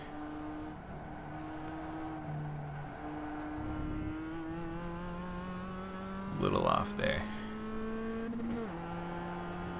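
A Mazda Cup race car in the iRacing simulator drones steadily at high revs, its engine pitch climbing and dropping through gear changes, with a burst of tire scrub in the middle and a voice speaking briefly.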